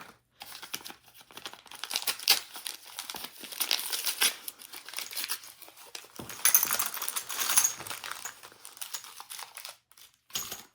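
Paper wrapping around Wolf non-corrosive rifle ammunition for a Russian Mosin-Nagant M91 is crinkled and torn open close up, in irregular rustling bursts with brief pauses and no talking.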